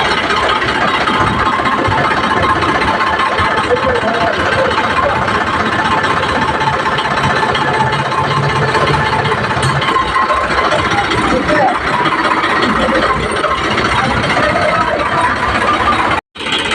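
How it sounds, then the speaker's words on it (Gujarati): A tractor engine idles loudly and steadily while reversing during loading of UltraTech cement, a close, unbroken rumble that cuts off abruptly near the end. "આપણું ટ્રેક્ટર ઓલરેડી અહીંયા રિવર્સ લાગે જ છે."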